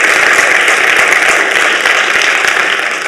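Steady, dense audience applause fills a conference hall at the Action with Africa Challenge final at Rabobank in Utrecht, the Netherlands, sustained and even throughout without voices breaking through.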